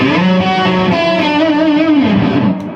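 A heavily distorted electric guitar plays a few sustained, buzzing chords, thick and saturated, loud and alone.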